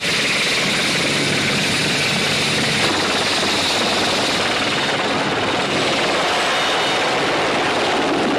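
A helicopter in a war film flies close by, with a loud, steady rotor and engine roar filling the whole stretch without a break.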